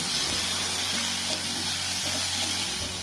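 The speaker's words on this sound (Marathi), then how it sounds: "आले पेस्ट, हे सर्व परतवून घेऊ आपण छान" Ginger paste and fenugreek seeds sauteing in hot oil for rava upma, a continuous close sizzle and crackle with occasional faint stirring.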